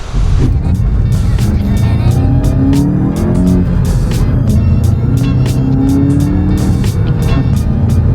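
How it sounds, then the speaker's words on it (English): A Volkswagen GTI with an oil-burning engine drives under boost, its engine a steady loud drone from inside the cabin with a constant road roar and some ticking over the whole stretch. "The car pulls much smoother under boost."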